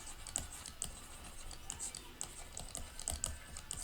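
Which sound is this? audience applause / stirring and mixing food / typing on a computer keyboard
typing on a computer keyboard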